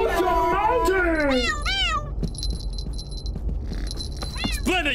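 A cartoon kitten meows repeatedly in high, sliding cries, loud and close, mixed with a shrill electronic tone and a brief voice in an English-dubbed animated episode.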